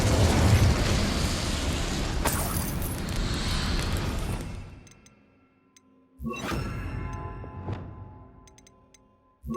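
An Incendiary fire spell from Hogwarts Legacy bursts with a loud roaring blast that fades into quiet, then a second sharper burst with crackling ticks follows.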